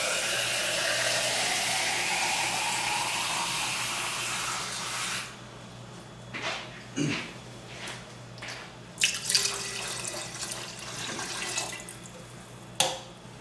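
Water poured into a pot of cooking feijão beans: a steady broadband rush for about five seconds, then stops, followed by scattered faint splashes and bubbling clicks near the mic.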